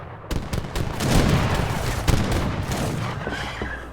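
A volley of gunfire in a video game erupts in dense, rapid, overlapping shots, loud and close, rattling continuously with no talk over it.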